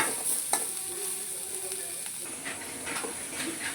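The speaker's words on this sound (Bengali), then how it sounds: "এবার দিয়ে দিলাম আমি পেঁয়াজ দিয়ে আমি ভালো করে এটাকে ভেজে নেব" Onions frying with dried fish in a pan give a continuous hissing sizzle with occasional stirring scrapes and soft knocks, moderately loud and close throughout, with no speech.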